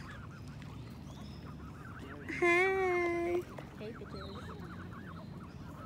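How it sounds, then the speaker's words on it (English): Geese honk across an outdoor fishing spot, one loud, drawn-out honk standing out near the middle over softer, distant calls and faint background chatter. "The geese are making their way towards us."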